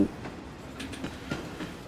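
Train from the visual novel Echo rushing past close by, a loud rumbling roar with rhythmic clacking pulses repeating under it.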